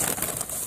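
Young sparrow chicks chirp in a quick, faint flurry of bird calls, close by, against a steady hiss of background noise.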